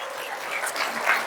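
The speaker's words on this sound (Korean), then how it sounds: "여기서 박수가 나와야 됩니다" Brief burst of audience applause at a business presentation, a short dense patter of many hands clapping at moderate distance.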